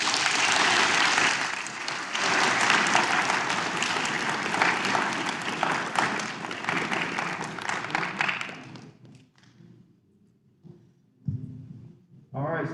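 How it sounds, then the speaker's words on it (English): An audience at a meeting gives a sustained round of applause, dense clapping for about eight seconds before it fades out, followed by a few scattered claps and quiet room noise. "let's give everybody a round of applause."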